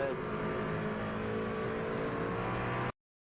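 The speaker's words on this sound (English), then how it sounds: "Listen to the engine. It starts to rev up higher than it should as he starts to spin those tires." A race car engine on the Watkins Glen circuit revs high as its tires spin after contact off a rumble strip: a loud, sustained whining roar that cuts off abruptly near the end.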